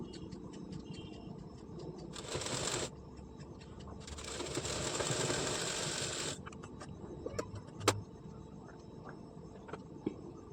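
A domestic sewing machine stitches piping strip onto a blouse in two bursts of steady whirring, one short and one longer, with quieter handling clicks and rustles between them and no talking.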